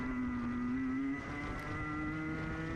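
A racing kart engine screams around the Victorian circuit during a masters heat, a loud, steady high-pitched whine that dips slightly in pitch midway as it eases into a corner, with no talking.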